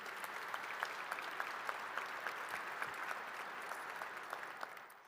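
Steady applause from an audience at a volunteer awards event, a dense, even wash of clapping heard from some distance, fairly quiet and tapering off at the end.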